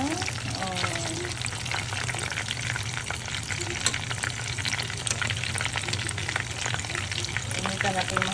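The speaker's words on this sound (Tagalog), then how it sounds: "pasik-pasik yung mantika" Chicken pieces fry in spattering oil in a small pan, giving a steady close sizzle with frequent crackles and pops, while a voice speaks briefly at moments.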